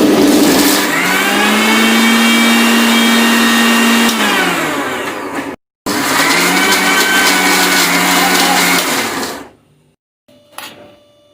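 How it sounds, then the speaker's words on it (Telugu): A kitchen mixer grinder coarsely chops cleaned banana flower with a loud, steady whirring motor hum; it runs for about five seconds, cuts out briefly, then whirs again before winding down to near silence. "ఈ అరటి పువ్వును కచ్చాపిచ్చాగా మిక్సీ చేస్తున్నాం."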